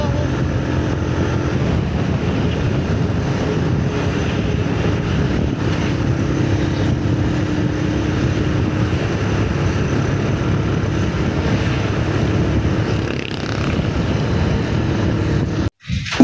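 A motorcycle ridden toward a farm holds a steady, loud engine drone mixed with wind rush the whole way, ending in a brief thump.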